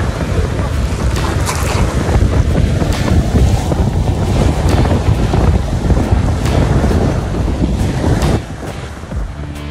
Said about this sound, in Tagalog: medyo malakas yung alon dito